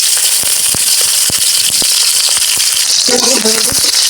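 Loud, constant sizzle of onion and green chili frying in hot oil, with sharp crackles and pops scattered throughout.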